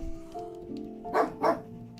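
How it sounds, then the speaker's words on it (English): Two quick dog barks at a crow, close together, moderately loud, over a soft background hum. "currently barking at a crow"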